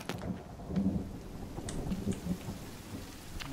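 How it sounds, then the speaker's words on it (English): Steady rain falls in the survival video game The Forest, with a low rumble of thunder rolling underneath, all faint and continuous with no voices. "It's already raining."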